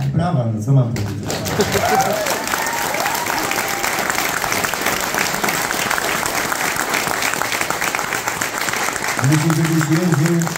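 Concert crowd applause at a rock show, a loud, dense, continuous wash of clapping and some cheering that lasts throughout, with a voice talking briefly at the start and again near the end.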